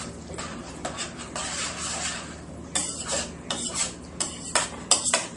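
Macaroni and cheese with a little too much milk being stirred in a pot with a spoon, a soft scraping and swishing that comes in irregular strokes and grows louder toward the end.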